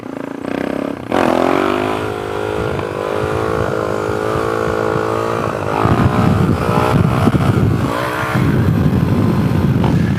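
Suzuki DRZ400sm motorcycle revving during a wheelie: a loud, close engine held at high revs with a sustained rising drone, then rougher throttle bursts and clatter toward the end, with no talk.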